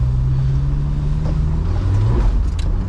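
Deep, steady engine drone from a Jeep climbing a snowy hill in two-wheel drive, loud and close, with rumbling low tones and wind buffeting the mic.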